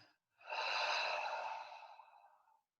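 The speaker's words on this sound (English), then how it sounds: "And breathing out through the mouth." One long, breathy exhalation out through the mouth, soft and airy, swelling quickly and then fading over about two seconds in an otherwise quiet room.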